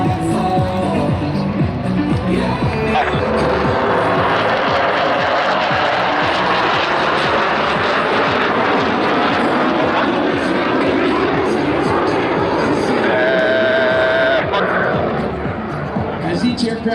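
Blue Angels jets roar overhead at a Saturday homecoming airshow, a loud, continuous engine rush that swells and sustains throughout, with a commentator's voice over the public address running underneath.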